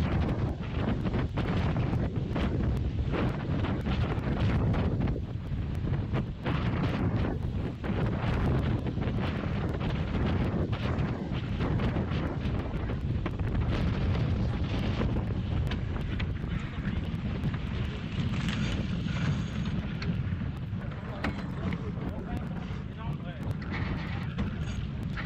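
Steady gusty wind buffets a sailboat in unsteady 13 to 15 knot wind shifting left and right, a constant low rumble of wind noise across the microphone with the mainsail faintly flapping, while people talk over it.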